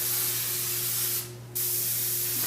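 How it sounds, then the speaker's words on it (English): Non-stick cooking spray hisses from a can into a crock pot in a loud, continuous spray, broken by one short pause before resuming, with a steady hum underneath. "there's some non-stick spray off in there"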